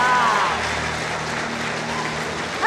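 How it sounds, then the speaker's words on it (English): A live talent-show audience gives a round of applause for magician Bruce, a broad, even wash of clapping heard throughout with a brief louder burst near the end. "A round of applause for Bruce if you can."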